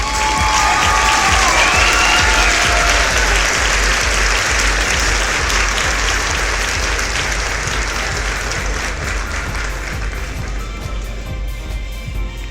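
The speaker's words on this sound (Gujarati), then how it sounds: "જોરદાર તાળીઓ થઈ જાય એમના માટે." Loud, sustained applause from an audience at a social welfare awards ceremony, dense clapping that fills the room and tapers only slightly toward the end, with no speech over it.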